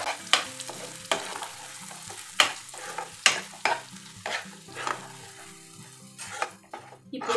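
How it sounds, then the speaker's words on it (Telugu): A spoon stirs a sizzling tempering into freshly ground coconut peanut chutney in a pan, giving repeated scraping strokes and clinks over a steady fry, close and fairly loud with no talking. "ఇది మనం తాలింపు అంతా కలిసేలాగా తిప్పుకోవాలండి."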